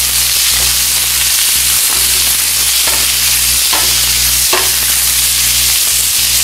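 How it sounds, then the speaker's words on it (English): Green beans and baby red potatoes sizzle steadily in a hot sauté pan, with several distinct stirring and tossing scrapes over the continuous frying hiss. "So now it's time to add our green beans, our haricots verts. I'm going to toss well."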